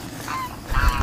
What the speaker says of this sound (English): darn geese.